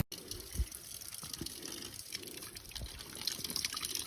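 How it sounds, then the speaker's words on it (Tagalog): Water runs steadily from an outdoor tap in a rural hillside setting, a continuous close splashing flow with a few brief heavier gushes, no voices. "Sumao to, pagkahuman og tanggal sa tali ni agas na."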